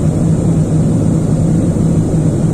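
Steady, loud cabin roar inside a Boeing airliner cruising at altitude on a flight from Jeddah to Indonesia, a constant low rumble and hum with no pauses or voices.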